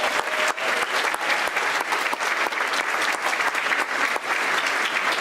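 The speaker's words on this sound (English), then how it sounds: "Let's give them a round of applause." An audience applauds third grade teachers at a school choral concert, steady dense clapping filling the room for several seconds without pause.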